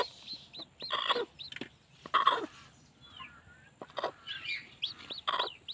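Repeated short clucks and chirpy calls from a Hmong black hen at close range, in irregular bursts with brief pauses between them.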